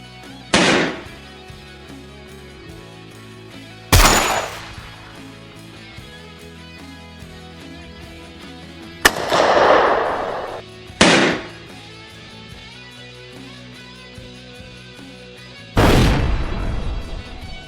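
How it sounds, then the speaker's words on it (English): Gunshots ring out in a forest during a wild boar hunt, five loud sharp reports spaced a few seconds apart, each followed by a rolling echo through the trees, with quieter background noise between shots. "Gunfire echoed through the trees."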